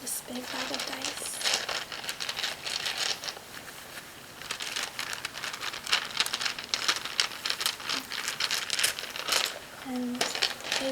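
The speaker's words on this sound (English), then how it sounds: "this big bag of dice" A big bag of dice being handled up close, a steady crinkling, rustling rattle with small clicks of dice shifting, soft and continuous, with a soft voice speaking faintly at moments.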